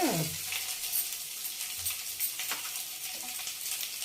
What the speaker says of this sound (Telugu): అల్లం వెల్లిపాయ పేస్ట్ బాగా వేగిన తర్వాత